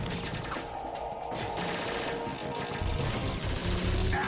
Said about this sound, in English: let me shoot down those gun turrets at least.